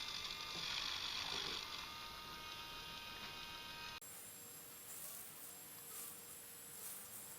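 A two-in-one electric nail clipper and polisher trims fingernails with a steady, close, high-pitched motorized whine and buzz, changing tone partway through as it runs continuously.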